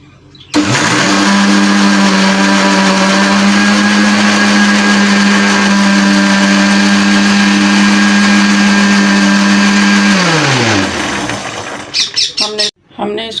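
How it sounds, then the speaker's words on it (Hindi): An electric grinder whirs loudly at a steady pitch for about ten seconds, blending sugar and milk into whipping cream, then spins down and stops with a few short clatters at the end. "अब फिर हम इसको ग्राइंड कर रहे हैं"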